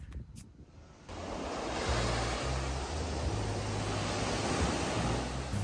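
Surf rolls onto a hotel beach in Venezuela, a broad, steady wash of breaking waves with wind buffeting the microphone. It starts after a quieter second and holds loud and continuous.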